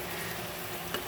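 Cumin and spices hiss briefly in a hot pan as a quiet, continuous sizzle, with one faint stir near the end.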